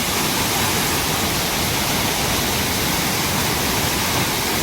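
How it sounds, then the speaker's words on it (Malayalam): Heavy, constant roar of water crashing at Achan Kallu waterfall, about 3 km from Konnakkad, during a downpour; dense broadband rush with no pauses and no voices. "അതിശക്തമായിട്ട് വെള്ളം വന്നുകൊണ്ടിരിക്കുന്നുണ്ട്."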